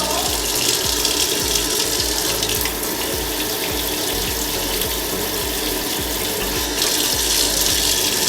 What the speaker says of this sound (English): Just gonna check now if there's running water.